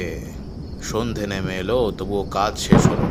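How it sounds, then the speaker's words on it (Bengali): Crickets chirp in the background while someone narrates in the foreground. "চারিদিকে ঝিঝি পোকার ডাক"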